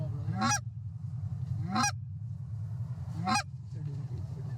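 Three loud goose honks, each a rising nasal call, spaced about a second and a half apart over a steady low background rumble.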